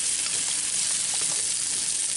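Rabbit pieces browning in a Dutch oven, a dense, steady, close frying sizzle with faint stirring underneath and no pauses.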